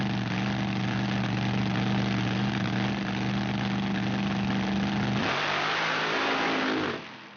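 Mud truck engine at a Mud Truck TV Pro-Badd SCS Gearbox All-Star Nationals mud drag race: a loud, steady high-rev roar with strong droning harmonics, then a sudden surge near the end before the engine cuts off abruptly.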